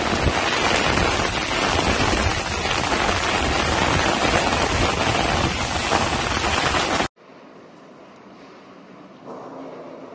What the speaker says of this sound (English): A sudden violent hailstorm struck Rome, Italy, covering part of the capital in ice and causing severe disruption to daily life.